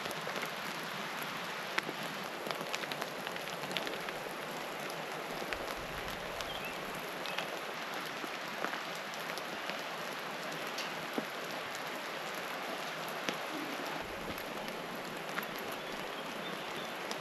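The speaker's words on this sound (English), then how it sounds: "it has not stopped raining yet" Steady rain patters on surfaces outdoors at a Montana ghost town, forming a constant, dense hiss of drops with scattered sharper ticks and no pauses.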